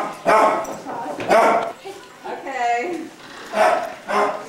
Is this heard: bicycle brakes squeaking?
no